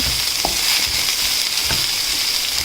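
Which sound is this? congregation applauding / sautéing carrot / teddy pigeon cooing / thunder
sautéing carrot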